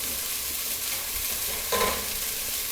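Onions sautéing in a pan, a steady soft sizzle with a brief stir or scrape near the end, close and moderately quiet, with no talking.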